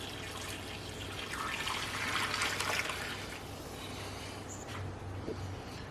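Vegan broth strained through a t-shirt over a colander gives a steady, soft trickle and patter of liquid that swells briefly in the middle and then settles back to a gentle dribble.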